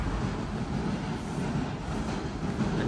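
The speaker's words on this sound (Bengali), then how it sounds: "ট্রেন চলে যাচ্ছে" A train rolls past on the tracks near Teasdale Place, a steady, close, loud rumble of wheels and cars that holds evenly for the whole stretch.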